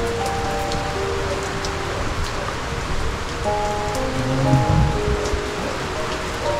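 Steady rain falls on surfaces close by, a continuous hiss of patter with a few louder drops, and no voices.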